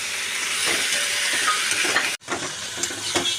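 Spice paste of chili paste, salt, turmeric and sugar frying in oil for a fish curry, a dense continuous sizzle with soft stirring scrapes, close and steady with no talking.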